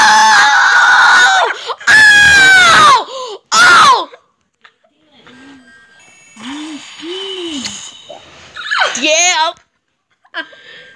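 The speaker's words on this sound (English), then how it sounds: "I screamed so loud that I interrupted his work." A person lets out several loud, shrill screams in quick succession at close range, broken by short gaps, with quieter vocal sounds and sharper squeals later.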